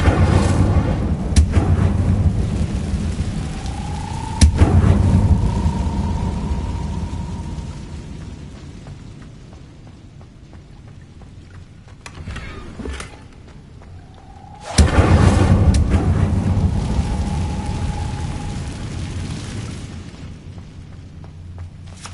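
In the Hogwarts Legacy video game, an Incendio fire spell is cast twice, each time a loud burst of fiery whoosh and rumbling boom that slowly fades, separated by a quieter stretch of game ambience.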